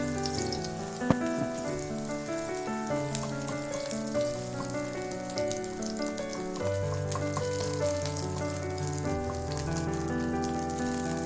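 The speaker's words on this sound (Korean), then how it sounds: "팬에 식용유를 넉넉히 두르고 국자로 반죽을 넣고 펼쳐줍니다." Egg-batter jeon in a pan with plenty of cooking oil crackles in a continuous, even sizzle that holds steady throughout, with soft background music underneath.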